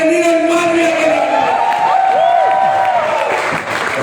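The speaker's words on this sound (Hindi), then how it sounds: "जोरदार तालियां नीरज मालवीय के लिए।" Loud crowd at an anniversary celebration in Bangkok applauding and cheering, with sustained clapping under whoops and shouted voices close by throughout.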